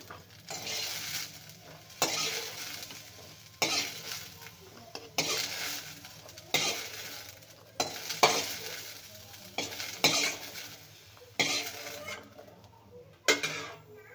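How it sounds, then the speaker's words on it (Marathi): Fresh green chilies roast and sizzle in a pan for a spicy green pea amti, with a spoon scraping and stirring in regular strokes about every second over a steady frying hiss. "आता मिरच्या पण भाजून घ्यायच्या चांगल्या।"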